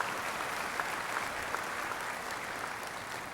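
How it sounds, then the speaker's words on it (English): A graduation commencement crowd claps for an honoree, sustained applause at moderate volume with a few sharper individual claps standing out. "I think he needs a special round of applause for the blessing."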